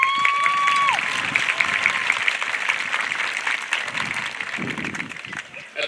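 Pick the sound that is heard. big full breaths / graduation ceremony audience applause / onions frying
graduation ceremony audience applause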